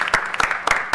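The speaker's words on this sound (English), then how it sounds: "let's give her one more round of applause" A council meeting audience applauds, a brief burst of overlapping claps with distinct individual hand strikes standing out, moderately loud and close, with no talk over it.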